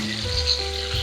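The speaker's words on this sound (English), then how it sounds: "this bottom part where all the fat is, that's the one I'm going to sear the most" Fatty Boston butt pork sears in a Dutch oven, giving a steady close sizzle with a low hum beneath, brief and even without breaks.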